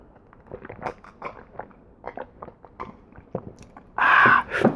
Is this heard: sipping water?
yes